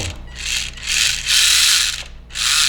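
The electric motor and gears of a Xotik XC324 RC car whir in loud, close bursts, four surges of grinding, ratcheting drive sound with brief dips between them as it switches between reverse and forward, no talking.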